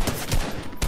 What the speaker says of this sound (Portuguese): Lá na construção, um tiro.